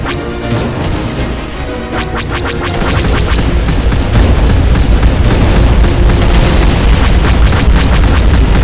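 A transport is destroyed by torpedoes during space combat in the Open Galaxy game, a loud, dense, continuous roar of booming explosions and crashing debris that builds and sustains throughout, with no speech.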